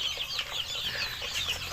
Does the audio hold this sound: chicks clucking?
yes